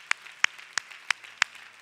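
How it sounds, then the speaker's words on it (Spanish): At a Sunday worship service, five sharp, evenly spaced single claps ring out in a steady rhythm, loud and distinct against a quiet room. "Un aplauso al Señor"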